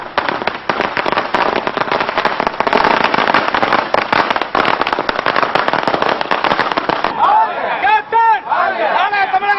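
Firecrackers burst in a dense, rapid crackling string at a political party workers' celebration, loud and continuous, then give way to crowd noise and shouting at the end.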